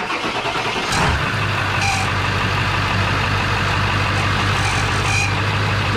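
A 7.3L dually truck engine cranks and catches on its first test fire, then settles into a loud, steady diesel idle with a rough low rumble, close up and continuous.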